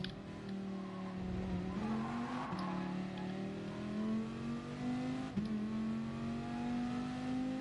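Race car in Gran Turismo Sport with its engine droning steadily and rising in pitch through gear changes, a brief tire scrub in the corner, heard alone without talk.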